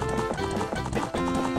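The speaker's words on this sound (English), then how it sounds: "Hey, come on, you stupid horse! Go faster, will you? Speed it up!" A horse gallops in Ocarina of Time, a quick run of rhythmic clip-clop hoofbeats under game music over a short burst.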